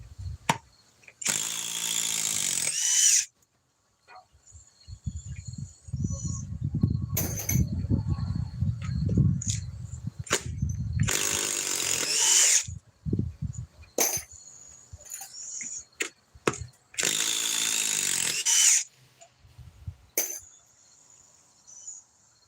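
A DeWalt power drill whines in three separate bursts as it backs timber screws out of wood, with knocking, handling clatter and clinks between the runs.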